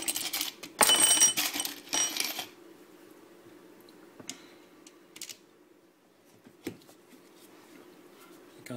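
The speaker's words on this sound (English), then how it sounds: "I'm just tightening up the last of those torque screws" Small Torx screws are driven back into the COMAND console control wheel of a Mercedes W204/W212 C- or E-Class, with a close burst of dense clicking and rattling followed by a few sparse, isolated clicks.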